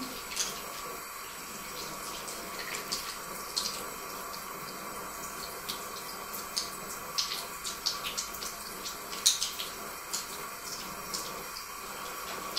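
Tap water runs steadily from a faucet into a sink while eyeshadow makeup brushes are rinsed, with light splashes and drips over a constant rushing flow.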